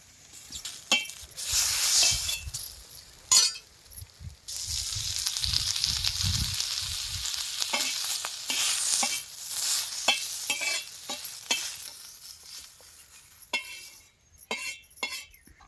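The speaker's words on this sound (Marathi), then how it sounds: "आपण हे कांदा तव्यावर टाकून घ्यायचा त्यात थोडंसं तेल टाकून असा परतून घ्यायचा" Chopped onion sautéed in a little oil on an iron griddle, a steady close sizzle with repeated scraping and clinking of a spatula against the pan, moderate in level and without speech.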